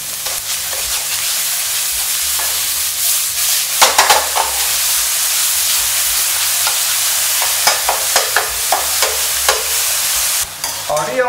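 Pickled mustard greens with sugar being stir-fried in a hot wok: a constant bright sizzle broken by repeated scraping and clanking strokes of the spatula, close up and loud.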